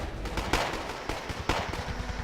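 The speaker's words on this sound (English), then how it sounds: "the K-52 is shooting at them with its cannon" Cannon fire from a Ka-52 attack helicopter in Wargame: Red Dragon, a Cold War strategy game: three sharp, spaced bursts ring out over continuous rapid rattling gunfire, close and loud, with no talking.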